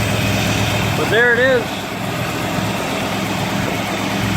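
A cold Buick car engine, not yet up to temperature with the choke on, idles steadily throughout with a low, even rumble, while a person speaks briefly near the start.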